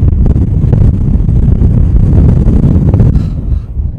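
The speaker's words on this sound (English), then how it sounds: "this wind is absolutely mental." Strong, bitterly cold wind on a mountain at night beside a ravine, loud low buffeting and roaring gusts hitting the microphone steadily, then easing slightly at the end, with no talking.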